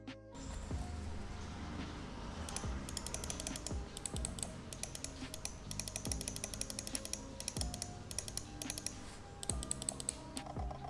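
Endgame Gear XM1 gaming mouse buttons clicked over and over in quick, dense bursts of sharp, hollow-sounding clicks, close up and steady across the whole stretch, with no talking.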